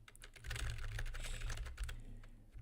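A computer keyboard clatters with rapid, dense key presses while Celeste is played. The close, busy tapping runs steadily and then thins out toward the end.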